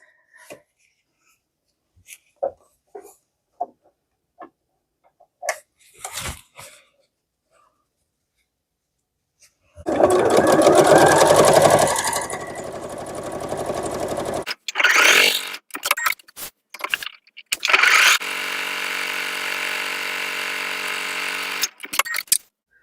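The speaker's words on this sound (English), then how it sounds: "Before I put it all together, I wanted to sew on the straps." A sewing machine stitches straps onto a tote bag in two close bursts of rapid mechanical whirring, preceded by faint scattered handling clicks and taps, with short gaps of fabric movement between runs.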